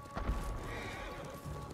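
Horse in the video game Ghost of Tsushima, a close clip-clop of hooves with a loud whinny near the start, then steady hoofbeats continuing alone.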